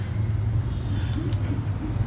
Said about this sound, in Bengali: কবুতরের বাচ্চা আমরা আসলে খাওয়ার জন্য এই কবুতরগুলো পালি